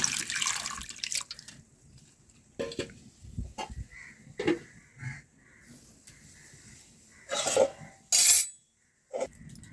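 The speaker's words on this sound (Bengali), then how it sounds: "ঠান্ডা জল দিয়ে এবার ডিমটা ধুয়ে নিয়ে ছাড়িয়ে নেব" Boiled eggs being rinsed under a cold running tap, with short bursts of splashing water and drips among quieter gaps, plus a crow cawing in the background.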